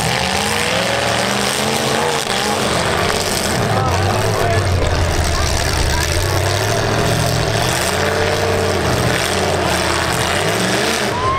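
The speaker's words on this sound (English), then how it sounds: "engine stumbled a little bit, starting to sputter" A hot prostock demolition derby car engine stumbles and sputters with rough, uneven revving amid the continuous roar of other engines in the arena, loud throughout with no clear break.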